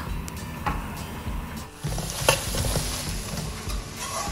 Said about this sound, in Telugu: కట్ చేసి పెట్టుకున్న ఉల్లిపాయ ముక్కలు, కట్ చేసి పెట్టుకున్న పచ్చిమిర్చి ముక్కలు వేసుకొని ఫ్రై చేసుకుందాం